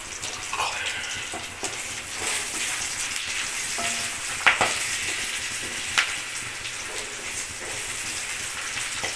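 Ingredients sauté in a pan for a urad dal chutney, a constant close crackling sizzle throughout with a couple of sharp clicks from stirring, no voices.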